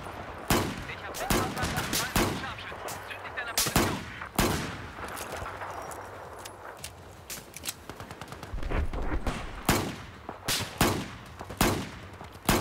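Gunfire in the video game Battlefield 4: loud sharp shots and rapid bursts crack out irregularly, some clustered like automatic fire, with someone talking between them.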